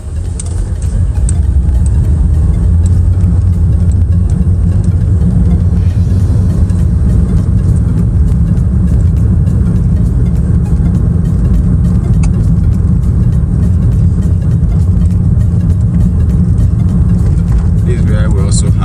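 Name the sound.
car driving through city streets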